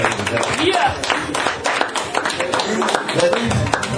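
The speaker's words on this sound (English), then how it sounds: "One more round of applause for Brother" An audience claps and cheers for Brother Al Porter at a community honor event: dense applause, loud and close, with voices shouting over it throughout.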